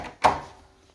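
An interior door in a three-bedroom flat gives a single short wooden thud as it closes, fairly close, then fades quickly into a quiet room.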